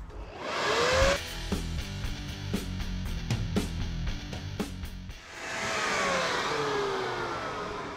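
Black & Decker leaf blower/vac on its high setting, a steady loud whirring motor roar with a string of sharp clicks and rattles as debris is sucked in, then a continuous high whine.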